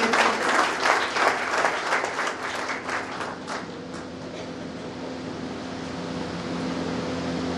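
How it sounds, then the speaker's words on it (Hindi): Audience applause greets a Brahma Kumaris session at a CISF honour ceremony in a Bilaspur meditation training centre, loud and dense at first, then thinning within a few seconds into a steady room hum. "जोरदार तालियों से स्वागत करें"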